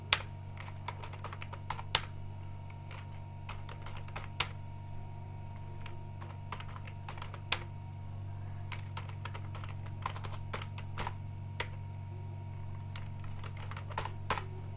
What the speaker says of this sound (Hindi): इस प्रकार से मैंने टाइप कर लिया